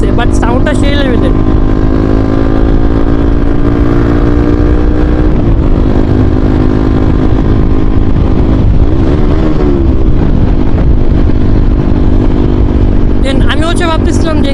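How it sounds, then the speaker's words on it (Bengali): A motorcycle with a modified exhaust runs loud and continuous close to the microphone, its engine roar steady throughout while someone talks over it. "যে বাইকটার যে সাউন্ড মারতেছে হালকা হালকা কানে বাজতেছে"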